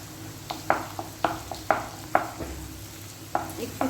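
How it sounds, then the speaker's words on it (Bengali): Egg frying alongside chowmein in a nonstick wok, with a soft continuous sizzle and a series of sharp spatula scrapes and taps at an uneven rhythm, close by. "এবার ডিমটাকেও ওর সাথে আমি আস্তে করে ভেজে নেবো"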